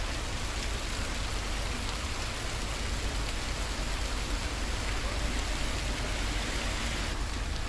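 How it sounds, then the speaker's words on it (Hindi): Heavy rain with hail pours down in a dense, unbroken roar of steady hiss that stays loud and even throughout, with no voices. "झमाझम बारिश हुई है, कई जगहों पर ओले भी पड़े हैं"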